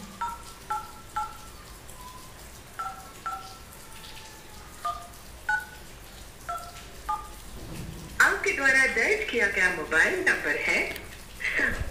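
Mobile phone keypad tones beep one at a time in an uneven sequence as a number is entered, about ten two-tone presses, followed by someone talking.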